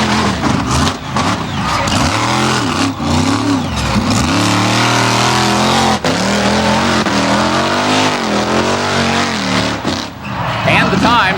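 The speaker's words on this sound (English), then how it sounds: "Gary DeMauro, the 36-year-old driver of this unusual 1946 Chevrolet tow truck." A 1946 Chevrolet monster tow truck roars loudly and continuously as it drives over cars, its engine rising and falling in revving surges, with a voice faintly mixed in beneath.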